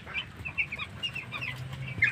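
Chickens clucking softly in a poultry house fitted with nipple drinkers, short repeated calls over a low constant farm hum, fairly faint and with no talking.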